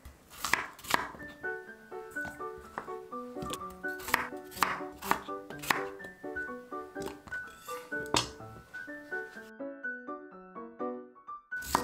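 A knife cuts potatoes into flat slices on a cutting board, making a steady run of crisp, near chops while soft instrumental music plays underneath.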